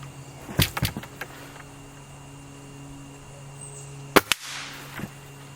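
Gamo Magnum .22 pellet rifle fired at a target, heard as a few sharp cracks with short impact snaps, separated by quiet gaps at close range.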